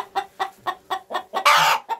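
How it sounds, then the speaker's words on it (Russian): A hen startled by a phone light in a coop squawks in a run of about seven sharp, evenly spaced clucks, then lets out a longer, louder harsh screech before one more cluck, close and alone. "У меня с телефона светит на курицу, она орёт."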